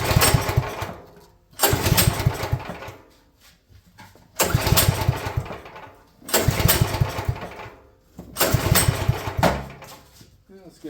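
A Champion generator, unused for years, cranked in a first start attempt: five loud cranking bursts separated by short pauses, its engine churning without catching.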